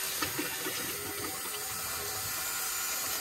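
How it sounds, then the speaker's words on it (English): Water running steadily into a filter, a soft continuous splashing trickle with faint bubbling, close and fairly quiet, with no voices. "See, that filter's filling up."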